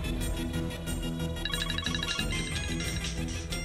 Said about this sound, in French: Le téléphone.